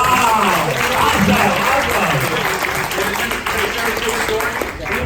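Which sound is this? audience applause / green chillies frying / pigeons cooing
audience applause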